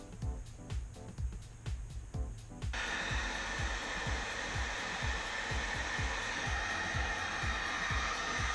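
A heat gun runs steadily while shrinking heat shrink tubing onto a paramotor throttle, a loud continuous blowing roar that kicks in partway through, following a stretch of rhythmic clicking and thumping handling noises.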